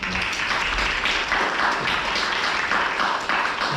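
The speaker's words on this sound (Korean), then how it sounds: "박수 한번 주시죠." An audience applauds at a lecture and discussion session on sustainable development and the SDGs in Pyeongtaek: steady, even clapping from many hands that holds at a constant level for several seconds.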